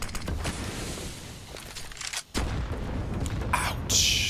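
A grenade blast in a Counter-Strike match on the Ancient map at IEM Summer 2021, a loud broadband boom amid steady gunfire and game noise, with a brief dip before a few more sharp bursts.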